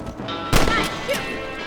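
A single sharp gunshot rings out while hunting rabbits in the Red Dead Redemption video game, loud and close over a steady musical backdrop, followed by a fainter knock.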